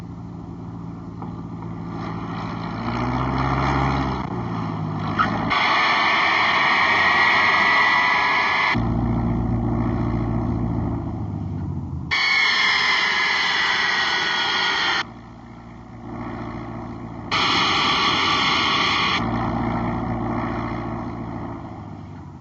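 US Air airliner jet engines spooling up and rolling for takeoff on the runway, a steady loud broadband roar with rising whine, briefly dropping and surging, heard from inside with no talk.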